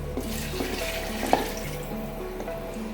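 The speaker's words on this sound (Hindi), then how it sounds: "तो अब हम इसमें पानी ऐड कर देंगे" Water is poured into a hot pot of Kashmiri aloo gosht, meat and potatoes cooking in oil. A steady splashing hiss rises over the sizzle, close by, with a few sharper clinks.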